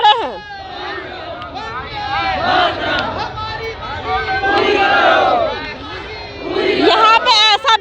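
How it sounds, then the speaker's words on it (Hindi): A large crowd of protesters massed outside a minister's bungalow in Chhattisgarh, a dense roar of many voices with shouts and chanting rising and falling throughout, loud and close, with no single speaker standing out. "तो पूरा छत्तीसगढ़ की भीड़ आपको यहाँ पे दिख रही होगी।"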